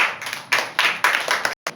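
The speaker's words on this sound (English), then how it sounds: "Clap" Hands clap sharply about eight times in an irregular rhythm, each slap crisp and close, with one short silent gap near the end.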